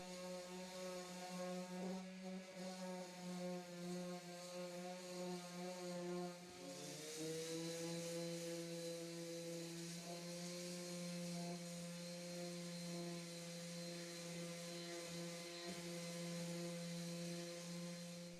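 A Woodstarter power sander shapes a rounded edge on a wooden bench, its motor holding a steady, loud tonal whine with a slight pitch shift partway through as the pad meets the wood.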